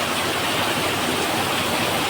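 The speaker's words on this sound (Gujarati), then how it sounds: "પાણી પણ પડવા મળે છે પતરાઓ પર" Heavy monsoon rain pounds on metal roof sheets as a steady, loud, dense hiss that stays unbroken throughout, with no voices over it.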